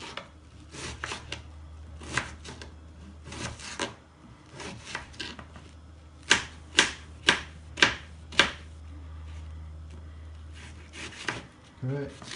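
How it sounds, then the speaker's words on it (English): A knife chops and dices an onion on a wooden board at home: a series of sharp, close knocks, a few scattered and then five evenly spaced firm strikes, over a steady low hum with some quiet talk. "Chop quickly the onion like this."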